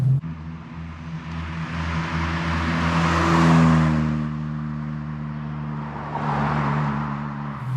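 Ford Fiesta Mk1 XR2 engine droning steadily as the car drives along, loud and close from inside the cabin, with the revs swelling and easing through the run and no talking.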